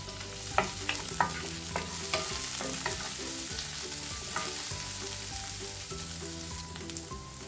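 Garlic and curry leaves fry in hot oil for a Malabar kalmas snack, a steady close sizzle with repeated scraping and stirring knocks of a spoon against the pan throughout.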